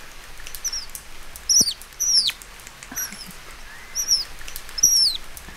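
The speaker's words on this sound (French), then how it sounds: "je me laisse bercer par le bruit de la pluie fine qui se mélange au doux chant des oiseaux" A sound-effects blend of light rain and birdsong: a soft, steady patter under short, bright chirps that repeat at irregular intervals, near and clear.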